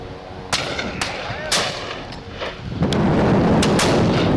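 Shotguns fire at a partridge shoot in the countryside: several sharp, loud reports at roughly half-second intervals, some distant, followed by rushing wind noise and further faint shots.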